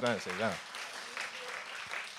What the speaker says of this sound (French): mais applaudissez-le.